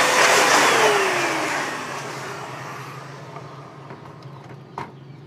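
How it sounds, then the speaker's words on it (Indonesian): A vacuum cleaner cleans a PS3 console with a loud, steady whine that starts strong, then slowly fades and drops in pitch as it moves away or powers down, leaving a quieter hum. "Selanjutnya kita bersihkan juga menggunakan vacuum cleaner."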